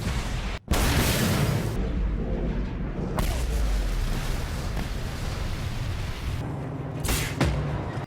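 Dense, continuous explosive rumbling and booms from the video game Mad Max fill the clip, loud and chaotic, with bursts and blasts layered over a heavy roar.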